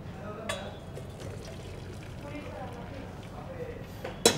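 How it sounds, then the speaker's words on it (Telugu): Hot water and cooked penne pasta poured out into a strainer in a kitchen, a steady rushing pour with a couple of sharp clanks at the start and end. "సో ఇప్పుడు దీన్ని మనం స్ట్రెయిన్ చేసేద్దాం."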